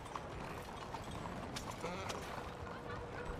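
Hooves of a horse in Red Dead Redemption 2 clip-clop in a steady, close rhythm over a dense outdoor ambience, continuing without a break throughout.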